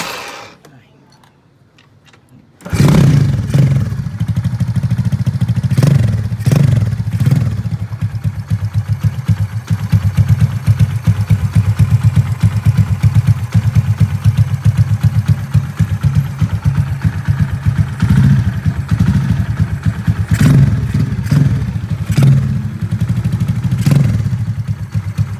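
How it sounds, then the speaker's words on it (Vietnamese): After a quiet moment, a homemade motorcycle with a light 54cc engine starts abruptly and settles into a loud, close, rapid idle that runs steadily to the end, with occasional voices over it. "Rồi bây giờ mình sẽ khởi động cái xe này cho các bạn coi."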